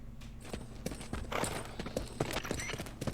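Horse hooves clip-clopping in Metal Gear Solid: Peace Walker, a steady rhythmic series of hoof strikes at walking pace over a low background hum.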